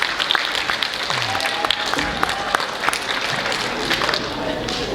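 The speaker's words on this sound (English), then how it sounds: "Kids, let's give your families a round of applause because it takes a lot." Audience applause at a middle school winter band concert, given for the students' families: steady dense clapping filling the hall for the full stretch, with some voices mixed in.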